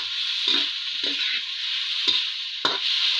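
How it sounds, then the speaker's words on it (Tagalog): Meat for adobong sitaw sizzles loudly and steadily in a hot pan, with a spatula scraping and stirring in several separate strokes close by. "Gigisa natin mga kagwapo yung karne natin."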